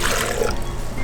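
Vinegar, eight ounces of it, pours into a hot sauce mixture in one short, steady splashing stream, loud and close, with no talking.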